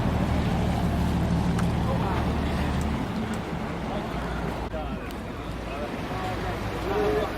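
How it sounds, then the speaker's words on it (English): A private tour boat pulls up on the Amalfi Coast near Positano, its low engine rumble steady under wind buffeting and water noise, with people talking nearby. "And our boat has just arrived."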